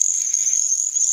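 Pine woods tree frogs call in a Florida forest, a continuous high-pitched trilling chorus that holds steady and fairly loud throughout, with nothing else prominent.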